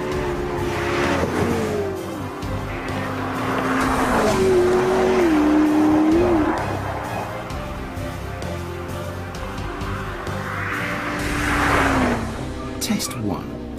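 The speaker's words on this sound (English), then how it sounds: "the world's first and possibly last full video road test of the McLaren P1" A McLaren P1 on a road test, its engine rising and falling in pitch as it accelerates and revs, with tyre noise and some speech over the loud, continuous drone.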